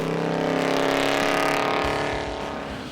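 A big-bodied 1972 Mercury Grand Marquis built to about 1,100 horsepower drives along the road, its engine giving a loud, steady droning run that eases off slightly toward the end.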